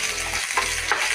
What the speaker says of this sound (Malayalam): പിന്നെ നമ്മൾ കഴുകി വൃത്തിയാക്കി വെച്ച വേപ്പിലിടാം. നന്നായിട്ട് ഫ്രൈ ആവണം.